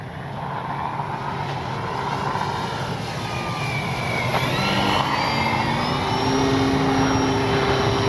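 An FMS Ranger 1800mm RC plane flying overhead, its electric motor whining and rising in pitch as it passes, with a steady broadband rush of wind and field noise underneath and no voices.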